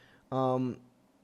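A pet cat gives a single short, close meow, and faint room noise surrounds it.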